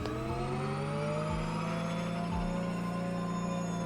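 A sustained, whining electric Porsche Taycan drone in a racing video game, with a steady high-pitched hum and a couple of brief low dips, continuous and fairly quiet.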